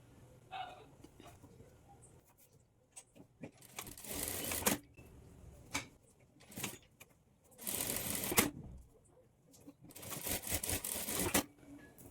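A sewing machine stitches darts on a plain blouse in short bursts, each run of stitching lasting about a second, separated by quiet pauses with light handling noises.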